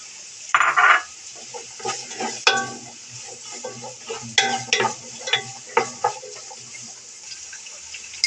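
Capsicum frying in a pan for fried rice, with irregular stirring scrapes and clatters over a steady, soft sizzle, close by and at moderate volume.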